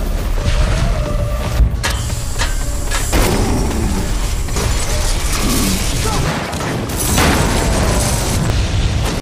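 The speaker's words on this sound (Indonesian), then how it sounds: "membuat ledakan yang sangat besar" A big explosion from the action film Project Power, a loud continuous roar of blast and debris with sharp booming hits, heavy and dense from start to finish.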